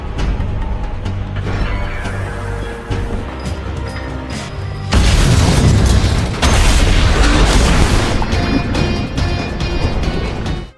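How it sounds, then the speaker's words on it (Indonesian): In a film scene, a bomb bursts beneath a bridge and a man falls into the water. A loud, sudden blast hits midway through the quieter mechanical background, and a sustained roaring wash follows. "sebuah bom yang dipasang oleh Arthur meledak sehingga membuat Max jatuh ke dalam air"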